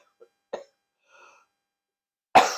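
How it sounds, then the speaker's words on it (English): A single sharp, close cough bursts out loudly after a couple of small throat sounds and a faint murmur, then trails off. "I'm going to cough again."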